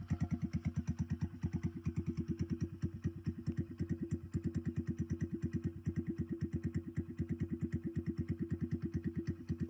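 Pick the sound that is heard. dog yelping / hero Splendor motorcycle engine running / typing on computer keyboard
hero Splendor motorcycle engine running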